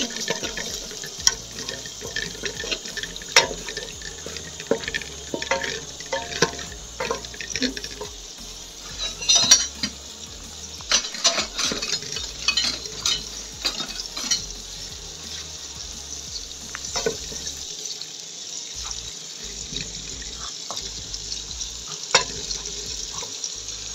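Ghee melts in a pan over a gas flame while being stirred, giving a continuous light sizzle with scattered scraping and clicking taps over a steady hiss, and no voice heard.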